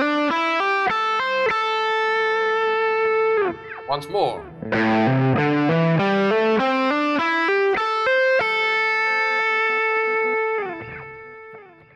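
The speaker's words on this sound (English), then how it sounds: "I'm going to play the minor pentatonic scale with hammer-ons." A distorted electric guitar plays a minor pentatonic scale with hammer-ons, running up and then back down in quick, even notes, a brief flurry in the middle and a spoken word slipped in.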